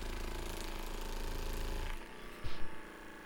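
An E-WIN PRIME fascia massage gun running, a rapid buzzing percussive hum for about two seconds that then cuts off, followed by a few soft handling knocks.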